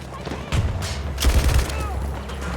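Gunfire and explosive booms crack through a Battlefield firefight, with two loud bursts of shots and low rumbling blasts over dense battlefield noise; voices may be faintly mixed in.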